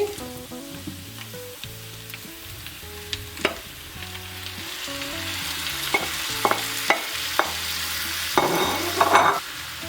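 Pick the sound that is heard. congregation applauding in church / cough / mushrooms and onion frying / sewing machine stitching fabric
mushrooms and onion frying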